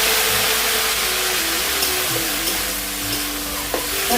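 Potatoes in a spice masala are stirred and fried in a pan with a little water added, giving a steady sizzle with scraping stir strokes running throughout.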